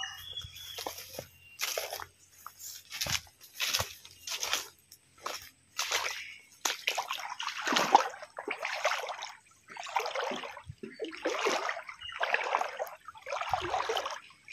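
Feet wade through a shallow stream, with repeated splashy, sloshing steps in close succession at a walking rhythm, fairly faint and nearby, with no talking over them.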